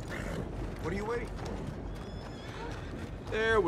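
A horse whinnies with hoofbeats clip-clopping in the Red Dead Redemption video game, a short neigh early and another near the end, under game dialogue and a steady ambient bed.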